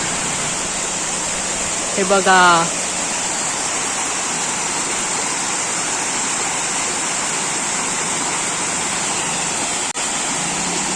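A small rain-fed waterfall in the Konkan monsoon pours as a steady, close, broadband rush that runs unbroken through the clip, with a brief spoken phrase near the start.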